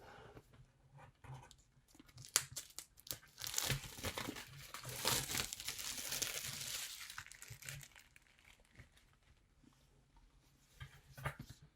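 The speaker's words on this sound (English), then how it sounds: "Now it's time to open up the plastic." Plastic wrapping being torn and peeled off a black flower-printed journal from a stationery mystery box, with close, quiet crinkling and crackling that swells in the middle and trails off.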